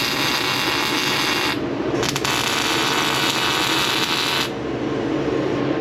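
Workshop background noise while fitting an exhaust tip to a police car, a dense, steady broadband hiss and whir with no talking, holding level throughout and easing slightly near the end.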